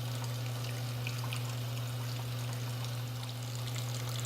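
Water trickling slowly out of an Everpure RO 225 reverse-osmosis filtration system, a thin continuous dribble and splash over a steady low hum.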